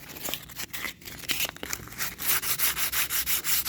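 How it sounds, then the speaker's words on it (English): Fine 220-grit sandpaper rubbed by hand over a kitchen cabinet door, starting with scattered scuffs and settling into a steady, close, rhythmic back-and-forth sanding stroke with no voices. "I'm going to sand it a little bit with some 220 fine finish"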